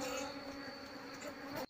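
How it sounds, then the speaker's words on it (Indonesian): An Apis cerana honey bee colony gathered around a captured queen gives a soft, continuous buzzing drone with a steady hum, faint and close, with no voices. "Nanti semua koloni ini akan mengikuti dimanapun keberadaan rata lebah ini."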